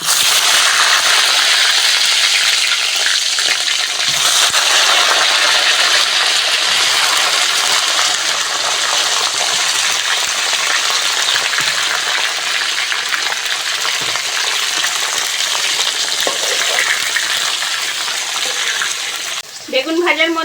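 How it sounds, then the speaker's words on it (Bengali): Eggplant pieces frying in hot oil for a fish curry, a loud, continuous sizzle close by that holds steady throughout, with brief clatter at the very end. "ওই তেলের মধ্যে বেগুনগুলো ভেজে নেব।"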